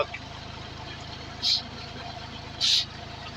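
A four-cylinder tractor engine drives a water pump through its PTO, giving a steady low, even rumble with a regular pulse, close by. Two brief higher bursts stand out over the running engine.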